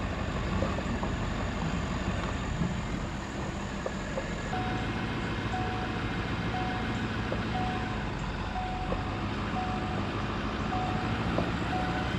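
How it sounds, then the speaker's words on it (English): A truck's reversing alarm beeps at a steady, evenly spaced rhythm over a loud, constant engine rumble, in a rural setting where a path has been cleared for fiber cable. "Don't mind the beeping."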